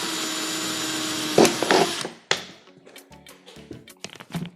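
A drill fitted with a metal bit bores holes into a plastic bottle for seedlings, a steady close whir for about two seconds that cuts off into scattered clicks and handling knocks.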